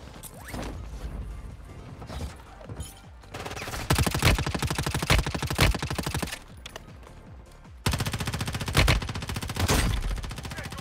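Rapid automatic gunfire in the mobile shooter Warzone Mobile, long rattling bursts with mechanical clicks between them, moderately loud and unbroken, no voices over it.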